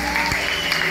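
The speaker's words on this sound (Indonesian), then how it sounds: "Boleh kita beri tepuk tangan yang terbaik?" Stadium crowd applause at a worship rally in Kuala Kapuas, a brief burst of clapping mixed with crowd noise and some voice underneath.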